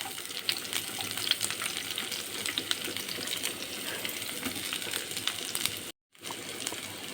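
Sliced onions and curry leaf stems frying in hot oil in a pan, a close steady crackling sizzle with faint spoon scrapes, briefly cut off by a short gap before resuming.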